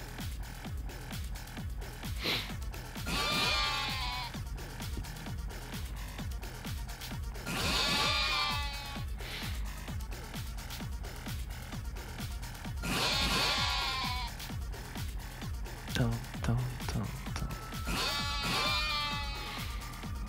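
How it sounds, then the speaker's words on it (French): Sheep bleating in the video game Yakuza: Like a Dragon, four wavering bleats spaced several seconds apart over a low, steady game background with rhythmic thumping, moderately loud and with no talking. "Le mouton du sommeil qui arrive."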